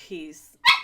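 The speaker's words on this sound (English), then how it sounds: "Now she knows I'm in here and she's barking at me." A puppy barks from just outside a door, one sharp bark standing out after a quieter stretch of soft vocal sound, close and fairly loud indoors.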